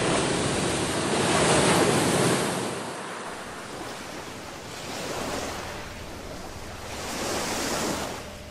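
Ocean waves break on a Vietnamese shoreline affected by coastal erosion, surging in slow rolling swells about every three seconds with steady wind noise underneath.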